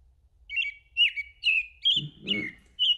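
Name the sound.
American robin singing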